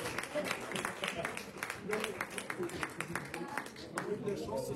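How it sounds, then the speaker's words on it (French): Audience applause at a contest final honours the winner, a dense, steady patter of many hands clapping throughout with a few louder claps standing out. "la féliciter et l'applaudir encore"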